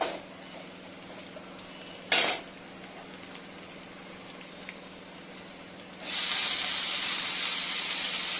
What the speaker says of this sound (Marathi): यात आपण ही धुवून बारीक चिरून घेतलेली मोहरी टाकायची आहे